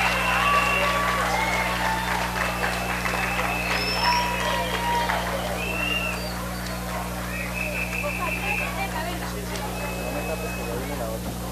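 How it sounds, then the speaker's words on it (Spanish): Audience applause at a children's music awards ceremony, a steady wash of clapping mixed with crowd murmur and scattered whistles, carrying on at an even level throughout over a constant low electrical hum. "Fuerte el aplauso, por favor."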